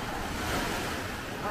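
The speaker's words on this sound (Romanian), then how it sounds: "ce valuri mari" Big sea waves wash onto a beach on the southern Romanian Black Sea coast, giving a steady, loud surf roar mixed with wind buffeting the microphone.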